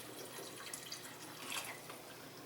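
Water is poured over baked beans in a cooking pot, coming through as a soft, steady splashing wash with faint drips, fairly quiet and continuous for a couple of seconds.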